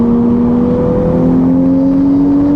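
A Toyota A90 Supra's engine pulls hard down a track straight, a loud, steady, rising drone heard close from inside the car, with no talking.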